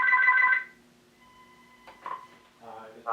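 A landline phone connected through a MagicJack Plus VoIP adapter rings on speakerphone, giving a loud burst of ringing, a quieter stretch, then further ring tones and clatter near the end.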